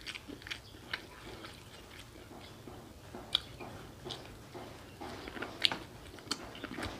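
Someone eating at a mukbang chews crunchy, juicy food close to the microphone, making soft, irregular crunches and wet bites with no talking.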